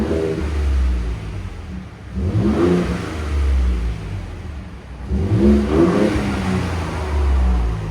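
A Ford Raptor 3.5L EcoBoost V6 pickup with stock exhaust revs twice, each rise swelling into a throaty roar before dropping back to a low idle rumble in between.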